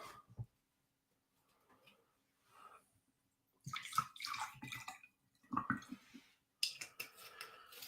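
A cocktail is poured out of a shaker, with gurgling and splashing liquid bursts in several short spurts after faint sounds in a quiet room.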